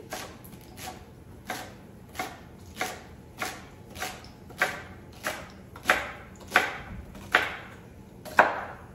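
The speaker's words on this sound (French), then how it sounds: "alors on coupe le céleri." Celery being chopped for vegetable soup makes a steady series of about a dozen crisp knife strokes on a board, evenly spaced, close and growing slightly louder, with no talking.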